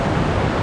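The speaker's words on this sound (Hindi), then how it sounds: "ये ऊपर से पानी आ रहा जो हमारे ऊपर गिर रहा।" Water falls loudly at Saklikent waterfall in Turkey, a dense, steady rushing roar close by, alone and unbroken.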